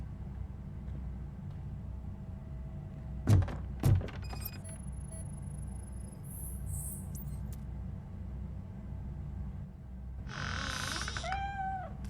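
A cat in RoboCop: Rogue City gives a brief high meow near the end, following two dull thunks and a quiet hum with faint electronic tones; the meow is soft and somewhat distant.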